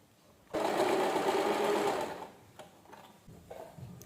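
A sewing machine stitches a paper leaf-shaped shubh labh hanging in one loud, close, continuous burst of about one and a half seconds, then falls away to light handling clicks.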